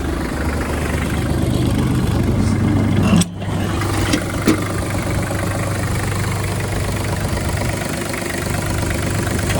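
A small diesel engine of a Kubota KT-24 mini tractor idles steadily close by, with a brief dip and a couple of sharp clicks partway through.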